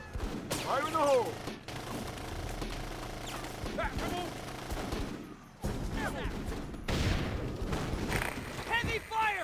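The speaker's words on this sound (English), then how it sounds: "Heavy fire! We're under heavy fire!" Heavy gunfire rattles through a Full Spectrum Warrior battle, with dense bursts of automatic fire and booming blasts that continue almost without a break, while voices shout over the combat.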